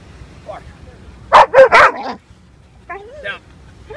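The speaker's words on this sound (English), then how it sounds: "Bark." A dog gives three quick, loud barks close by, followed by a couple of softer yips and whines.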